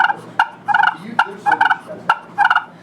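A hand-operated turkey call imitating a hen's clucks followed by soft purrs, in a slow, spaced rhythm of sharp clucks with trailing rolling purrs, close and clear with no talking.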